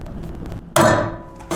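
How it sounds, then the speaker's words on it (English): A single sharp metallic snap of a blind rivet being set, loud and close, decaying quickly after a faint clicking lead-in, with another brief click at the end. "In this case, we'll use blind rivets."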